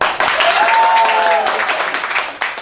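A live improv comedy show audience bursts into loud, sustained applause with cheering and a high whooping voice rising over the dense clapping, which thins out toward the end.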